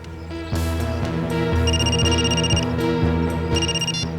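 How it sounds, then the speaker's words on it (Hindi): A telephone rings in repeated electronic tones over a steady, loud musical background, several rings in a regular pattern. "अभी अभी फोन आया"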